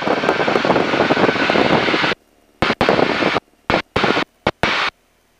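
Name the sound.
light aircraft engine in flight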